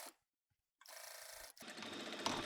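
Sewing machine stitching a T-shirt side seam through the shoulder seams, a close, steady mechanical whir in two runs separated by a brief pause.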